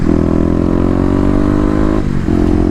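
A Kawasaki KLX250 with stage 1 mods accelerates hard, its single-cylinder engine rising in pitch as it revs out loud and close, then dropping briefly as it shifts and pulls again.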